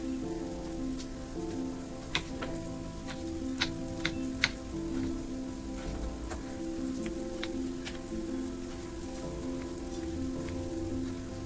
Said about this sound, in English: I will chop some tomato